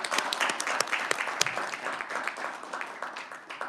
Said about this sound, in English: we give Dean Minton a round of applause for his efforts